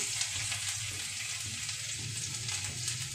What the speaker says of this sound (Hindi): तो ऑयल मेरा गर्म हो गया अच्छे से अब इसके अंदर मैं अपना ये चॉप्ड गार्लिक डाल देती हूँ